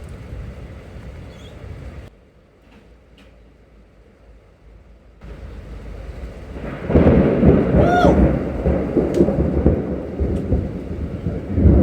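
Loud thunder during a severe thunderstorm with close lightning, heavy wind and a shelf cloud: a quiet rumbling stretch swells into a heavy, sustained roar of thunder over rain and wind noise, with no talking.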